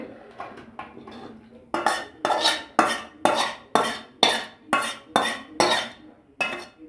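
Shrimp, shapla (water lily stem) and eggplant curry being ladled into a bowl: a series of about eight sharp, regular scrapes and clinks of a metal spoon against the bowl, close and loud, with no talking.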